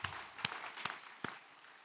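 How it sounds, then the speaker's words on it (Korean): A church congregation claps together during a Sunday worship service, a steady, fairly soft wash of applause with a few sharper individual claps standing out. "영광의 박수로 하나님께 드리겠습니다."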